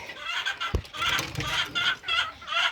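Hens cluck "ko ko ko" in short bursts with a sharp knock partway through, close by and fairly loud, on a fancy chicken farm.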